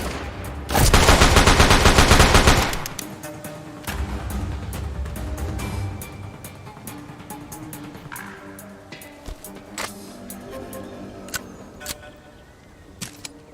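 AK rifle fire in the video game The Walking Dead: Saints & Sinners: a loud, rapid automatic burst lasting about two seconds, followed by clattering footsteps, handling noises and scattered faint shots.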